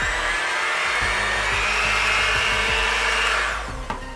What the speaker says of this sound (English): we're just going to go ahead and mix this on high until we get a whipped cream texture.